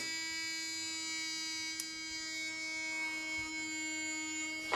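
Meat smoking machine running, a steady electric hum with strong harmonic tones and a brief click partway through, heard alone.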